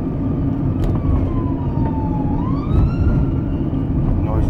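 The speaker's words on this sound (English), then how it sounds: "What's going on now? The old police car." A police siren wails and slides in pitch over rumbling traffic noise, passing fairly close.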